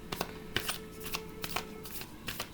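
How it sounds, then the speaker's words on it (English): Tarot cards being shuffled by hand in repeated quick riffling bursts, close and fairly soft, with no talk. "I'll shuffle out the cards and everything while we do this."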